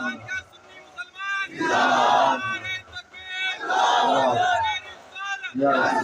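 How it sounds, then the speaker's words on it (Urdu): A crowd at an Islamic religious gathering chants a slogan in loud, rhythmic shouted bursts, several swelling calls separated by brief quieter gaps with a lead voice between them. "ایسے نعرے لگا دو بیچ میں"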